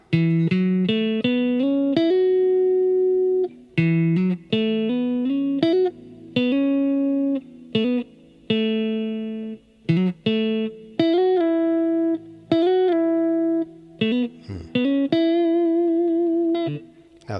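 Electric guitar picking a melodic run of single notes, clean and steady with brief gaps between phrases, close and fairly loud.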